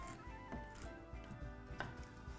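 Pecans are chopped roughly with a kitchen knife on a board while baking pumpkin bread, a few soft, irregular thuds and crunches heard quietly over faint background music.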